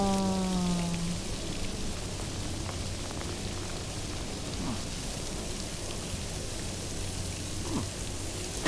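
Steady rain in Death Stranding 2, a soft even hiss of falling water filling the scene with faint low rumbles, after a brief tonal sound fades at the start.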